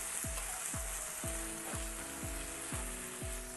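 Vegetables with turmeric frying in a pan, a dense continuous hiss and sizzle with a regular series of low thumping ticks about twice a second, close and steady, no one speaking.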